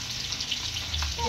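Fish sizzles in hot oil in a pan, a steady close crackling hiss with a few brief pops, and no voices.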